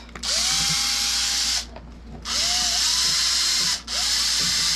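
A power drill boring a hole in a Traxxas Bandit RC car body, two long loud whining runs with a rising motor pitch and a short pause between them, close up with no talking.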